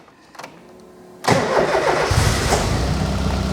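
A Ford Zetec engine in an MK Indy classic car cranks briefly, then fires abruptly and settles into a loud, steady, slightly lumpy idle close by.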